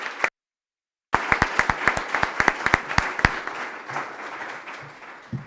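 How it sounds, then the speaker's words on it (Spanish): Brief sound cut off, then a crowd bursts into clapping and applause, loud and steady at first and gradually thinning out. "yo creo que se merecen un aplauso nuestros participantes"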